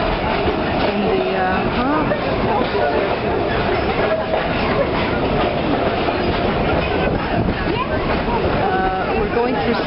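Historic Red Arrow train riding through Palma toward Sóller, a steady loud rumble of rails and carriage noise with clickety-clack throughout, and a voice talking over it.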